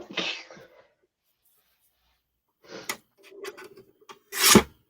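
A single sharp sneeze bursts out loud near the end, following quiet rustling and faint talk in a room.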